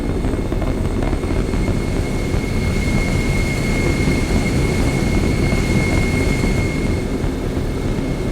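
In a Call of Duty video game cutscene, an Airbus A320 jet taxies with a loud, continuous engine roar and a steady high whine that holds level throughout, with no voices.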